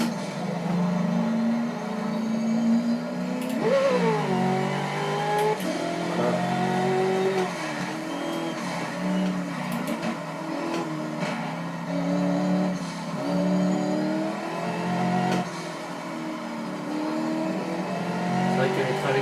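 A car laps the Bugatti circuit at Le Mans, its engine droning and shifting pitch through acceleration and braking, with brief tire noise and a voice talking over it.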